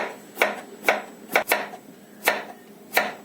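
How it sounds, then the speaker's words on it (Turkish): A knife taps sharply against a cutting board, six or so irregular chops with short pauses, close by, slicing potatoes into rings. "Şimdi patateslerimi tekrar yuvarlak yuvarlak halkalar şeklinde doğrayacağım."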